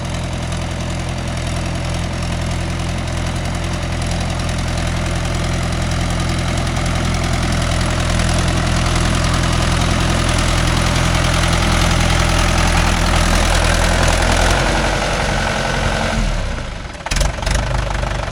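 A Mahindra 575 DI tractor with cage wheels, its diesel engine running with a loud, steady, low chugging drone close by, then a brief drop and a few knocks near the end.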